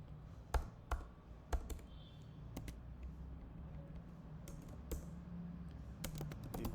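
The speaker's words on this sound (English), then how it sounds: "I'm just typing, it's my choice." Fingers type on a computer keyboard with irregular, close clicks and taps, a few sharper keystrikes early on, then lighter intermittent tapping over a quiet room hum.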